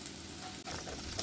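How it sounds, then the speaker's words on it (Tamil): Egg 65 frying in oil over a medium flame, a steady close crackling sizzle that runs continuously with a brief dip partway through. "மீடியத்திலே வச்சு பொரிச்சு எடுத்துக்கலாம்"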